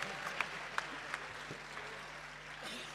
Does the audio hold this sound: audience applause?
yes